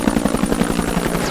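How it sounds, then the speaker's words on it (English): An American military helicopter comes in to land during the Vietnam War. Its rotor thumps loud and close in a rapid, steady pulse over a constant engine roar. "A break in the fighting finally allows a helicopter to land."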